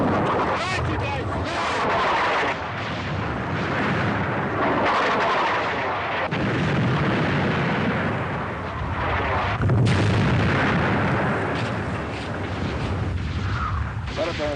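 Mortar and artillery fire in a battle scene from the war film The Man in the Gray Flannel Suit: continuous heavy booming and rumbling blasts that roll through the whole stretch, with shouted voices mixed in.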